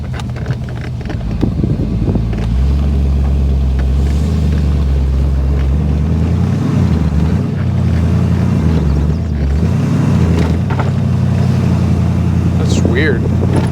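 A 1962 Austin-Healey engine runs with a steady low rumble, reluctant to take throttle, its revs rising and sagging unevenly against outdoor wind noise.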